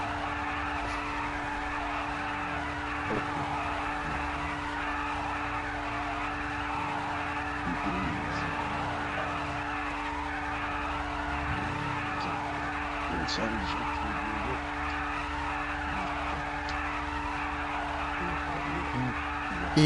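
Car tires skidding and squealing in GTA 5 Online, repeated screeching slides with engine roar from a close race car, recurring every few seconds while people talk in Swiss German over it.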